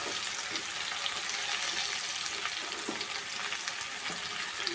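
Chopped onion, curry leaves and green chilli fry in a pan for tomato rice, giving a steady, even sizzle that carries on without pause and with no voices.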